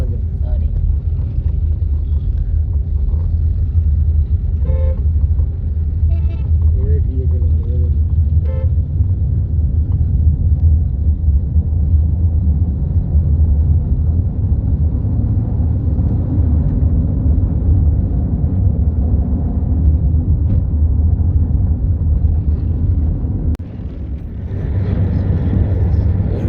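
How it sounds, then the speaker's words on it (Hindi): Heavy road traffic rumbles continuously near a marriage hall in Pakistan, a dense, loud low drone of engines with brief higher honks early on and a dip near the end. "ट्रैफिक बहुत इधर हाई लेवल की है।"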